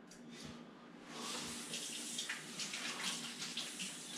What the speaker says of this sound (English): As I wash these off in cold water